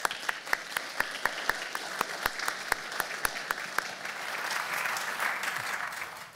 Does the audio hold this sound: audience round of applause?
yes